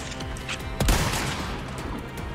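Sniper rifle fire in the video game Resident Evil 4 Remake, Separate Ways DLC, a few sharp reports with one loud crack standing out, ringing over game ambience.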